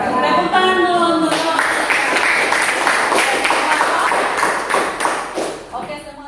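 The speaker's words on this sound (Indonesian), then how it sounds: "Tepuk tangan dulu untuk" Classroom applause after a student group's presentation, a dense wash of many hands clapping from start to finish, loud and steady before tapering slightly near the end.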